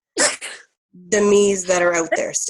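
One sharp, close sneeze comes right at the start, followed after a brief pause by a person speaking.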